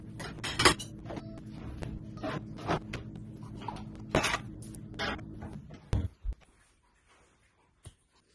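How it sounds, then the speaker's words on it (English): Dishes and cutlery clink and scrape in a home kitchen sink, a run of close, sharp knocks and rattles that thins out into a few last isolated clatters. "So I might just quickly do my dishes and get that done."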